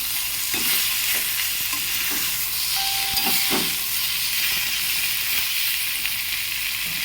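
Vegetables sizzling steadily in a hot pan for eggplant and bori cooking, with a broad continuous frying hiss and soft intermittent scrapes of a spoon stirring them, close and alone.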